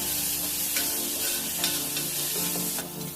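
Steady sizzling of tomato and onion frying in a clay pot, with occasional scraping of a stirring spoon, close and continuous.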